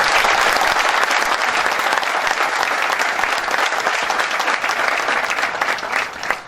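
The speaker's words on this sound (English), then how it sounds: "Please give a big round of applause and welcome them once." A large audience at a university inaugural function claps steadily and loudly, dense applause continuing for several seconds before tapering slightly at the end.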